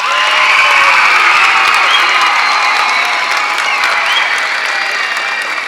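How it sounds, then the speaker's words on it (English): A high school Christmas concert audience gives the school jazz band loud, sustained applause mixed with cheering and whoops, a full crowd clapping steadily and easing slightly toward the end. "How about one more round of applause for our high school jazz band?"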